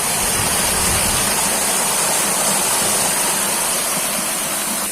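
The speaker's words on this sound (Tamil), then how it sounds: "சவுண்டு தான் அருவியில் ஓடுற மாதிரி தான் ஓடுது." Heavy rainwater rushing down a street during a downpour, a loud, dense, continuous roar like a waterfall, steady and close with no breaks and no talking.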